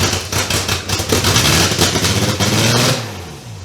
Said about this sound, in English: So as you probably heard, the car started up.